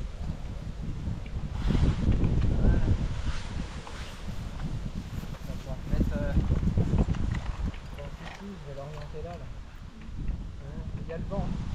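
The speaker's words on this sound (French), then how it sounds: "Il y a le vent." Wind gusts buffet the microphone in rumbling surges during Douglas fir felling, with a few voices and some rustling heard faintly under the blustery noise.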